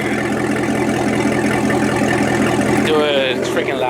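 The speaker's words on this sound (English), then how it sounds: "Listen to that idle" A Corvette with a newly installed X-pipe exhaust idles loud and close with a steady low rumble, while people talk over it.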